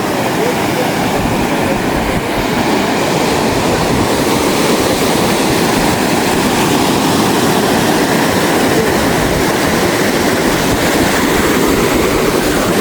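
Floodwater rushing and draining past a storm-damaged bridge at Vattuvakal in Mullaitivu toward the sea, a loud, continuous, broadband roar that holds steady throughout with no pauses.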